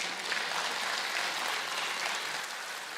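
Audience applause at a live stand-up comedy concert, a dense, steady wash of clapping from many hands that holds at an even level throughout with no voices.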